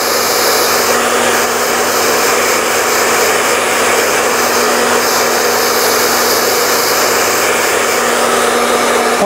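A hair dryer blows steadily and loudly at close range while a stylist dries a soft permed wave from the opposite side, a constant whirring hiss with a faint hum beneath and no speech.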